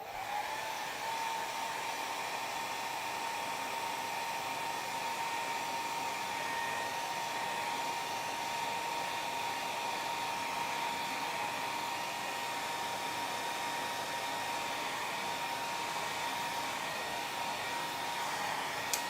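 A hair dryer blows steadily and loud for the whole stretch, drying wet paint on a dogwood blossom painting, with a constant airy roar and a thin tonal whine running through it.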